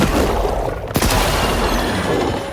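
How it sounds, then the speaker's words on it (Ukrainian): In the video game S.T.A.L.K.E.R. 2, a thrown grenade detonates with a single sharp, loud blast near the middle, set within dense continuous roaring game noise and rumble. "Закидуємо гранату і чекаємо на манюню."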